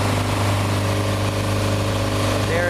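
A Xenos motorglider engine drones steadily and loudly in flight at about 3,000 RPM, a constant tonal hum with no breaks.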